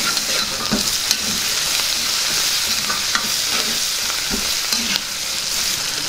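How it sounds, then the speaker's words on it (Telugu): Coriander stirred into hot oil tempering in a pan for Telugu-style fried rice, a loud continuous sizzle with repeated scraping of the spoon, no voices. "ఇందులోనే కొద్దిగా కొత్తిమీర వేసుకుందాం. దీన్ని బాగా కలుపుకుందాం."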